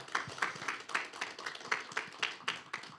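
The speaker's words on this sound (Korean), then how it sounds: "일어서시면 저희가 박수로 환영해 드리도록 하겠습니다" A congregation at a Korean church service claps in welcome, a steady run of brisk, fairly close hand claps with an even rhythm and no talk over it.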